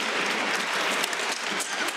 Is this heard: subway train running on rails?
no